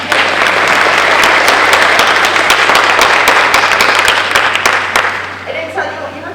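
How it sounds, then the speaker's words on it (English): A convention crowd at a Comic-Con panel applauds loudly and continuously for several seconds, clapping close and dense, then tapers off as a voice starts speaking. "Give yourselves a round of applause."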